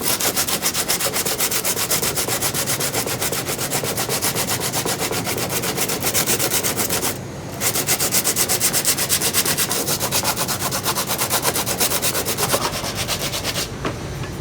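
Steady, continuous abrasive grinding of a belt grinder sanding metal, loud and close, with a brief dip in the rasping partway through.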